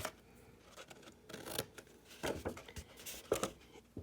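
Scissors snip the corners of a handmade diamond-fold paper card, a few short close cutting and rustling sounds scattered across a quiet room with no talking.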